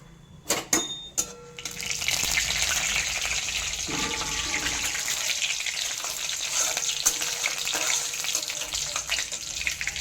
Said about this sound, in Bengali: আর দিয়ে দিচ্ছি কালো জিরে। ফোড়নটা খুব ভালো মতো করে ভেজে নিচ্ছি।